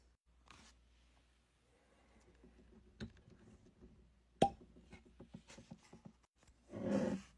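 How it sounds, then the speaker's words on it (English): A cork pops from a bourbon bottle with a single sharp, close plop, surrounded by quiet handling clicks and rustles and a short burst of noise near the end. "I will note that was a good cork pop"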